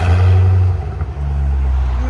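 A 2009 Chevy Corvette Z51 with a 6.2L V8 and Valvetronic Designs exhaust, valves open, gives a loud, deep, close rev that holds for about half a second and then settles into a rumbling, throaty idle.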